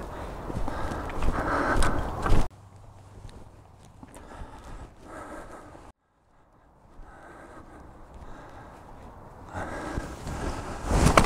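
Gusty wind at Upper Bittle Reservoir in the Midlands buffets the microphone in uneven rushes, loud at the start and end with a brief quiet lull midway.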